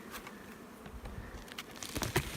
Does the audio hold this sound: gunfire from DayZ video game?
no